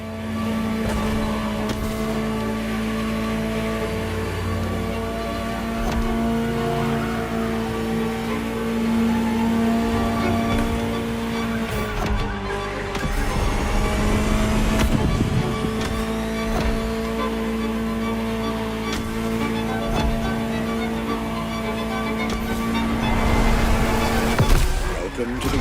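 A Ferrari supercar engine in The Crew Motorfest video game roars continuously, with shifting revs and a surge partway through, rising again toward the end.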